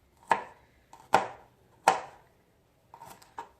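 Garlic being chopped for a vegetable-filled meat loaf: three crisp, evenly spaced chops, a short pause, then a couple of quicker, lighter ones, close and distinct in a quiet room.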